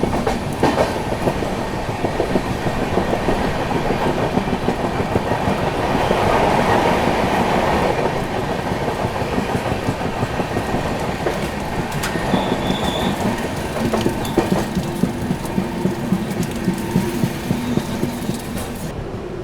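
Grand Trunk Express train running at speed toward New Delhi, heard from on board: loud continuous rolling rumble with rhythmic wheel clicks over rail joints and occasional squealing, steady throughout with no voices.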